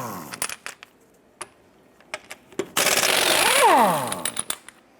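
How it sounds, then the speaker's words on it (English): Metal clinks and clanks from a 19mm socket on the lug nuts of a 1993-1997 Ford Ranger, then a loud sustained burst of tool noise mid-clip, followed by more scattered light metallic taps. "let's go ahead and remove our lug nuts"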